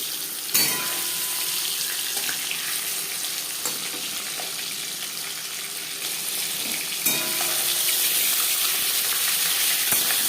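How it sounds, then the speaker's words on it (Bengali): Hilsa fish head frying in hot refined oil, a continuous close hiss of bubbling oil with a couple of sharper spatters and clinks, no voices. "চার 5 চামচ রিফাইন্ড অয়েল গরম করে নিয়েছি। সবার প্রথমে দিয়ে দেবো মাছের মাথা"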